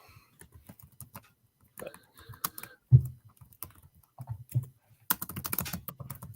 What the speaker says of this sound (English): Sorry, I was typing something.